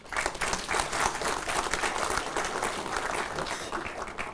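An audience at a sickle cell awareness event in France applauds a government minister, with dense, continuous clapping filling the room at steady volume.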